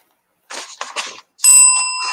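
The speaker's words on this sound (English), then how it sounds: "There's the bell." A few short knocks and rustles come first, then a bright bell rings once, loud and close, and its tone holds and slowly fades.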